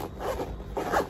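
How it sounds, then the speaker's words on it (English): A zipper on a small bag with a thick chain is pulled open and shut in two quick close rasping strokes. "Yeah, zipper works fine."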